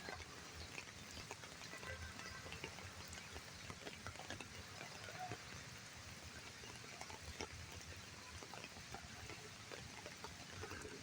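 Rain falling steadily across an empty park with plants, a soft, even hiss of drops spread throughout, faint and distant with no voices.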